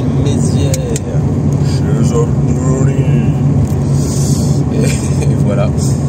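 A Mercedes 190E drives along a road toward Charleville-Mézières, with a loud, steady engine and road rumble throughout the interior and faint talk underneath.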